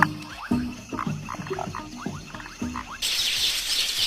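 Foam frogs calling at a night waterhole where males whip froth into egg nests: repeated croaking calls in a loose rhythm, moderately close, with a rush of broadband noise taking over near the end.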